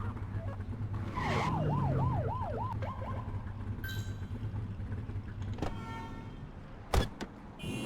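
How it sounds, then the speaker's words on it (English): A police car siren in a driving video game whoops up and down in a quick rising-and-falling wail for about two seconds, followed by electronic chimes and a few sharp clicks over steady engine hum. "Get behind them and flip the siren to make them pull over."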